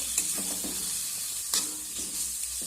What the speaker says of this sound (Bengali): এবার সবজিগুলোকে আমি আবারও নেড়ে চেড়ে নেব